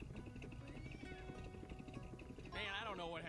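In the video game Lego 2K Drive, a horse whinnies loudly near the end, its pitch rising and falling, after a stretch of busy background music and game sounds.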